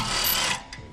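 A ratchet cracks loose torqued bolts on the rear brake of a G80 M3, a quick close run of mechanical clicking that stops abruptly and leaves a faint tail.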